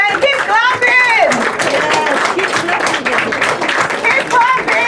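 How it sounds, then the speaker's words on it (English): Applause from the audience at an awards dinner in the House of Lords, with steady clapping running under a loud voice speaking over it throughout. "A resounding round of applause for them."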